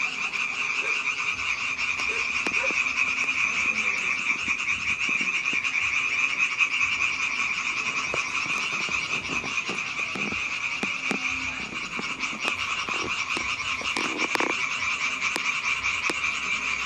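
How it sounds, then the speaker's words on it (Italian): A chorus of frogs croaking together, a dense continuous pulsing rattle that holds steady at moderate volume throughout with no gaps and no voices. "Concerto di Rane in Re maggiore."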